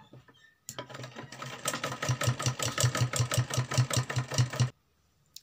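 Sewing machine stitching the neck piping of a suit, a steady rapid mechanical whirr that starts abruptly, runs for about four seconds with a rhythmic pulsing thump, then stops.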